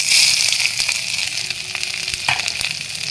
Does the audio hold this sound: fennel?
yes